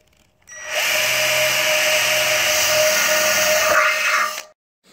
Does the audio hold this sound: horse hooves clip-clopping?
no